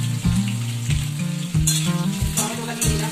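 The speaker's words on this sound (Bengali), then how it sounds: "বুঝতে পারছেন আলু পেঁয়াজ দুটি একসাথে ভাজা ভাজা হয়ে এসছে।" Potatoes and onions fry together in a pan with a loud, steady sizzle, broken by several stirring scrapes at uneven intervals; no one speaks.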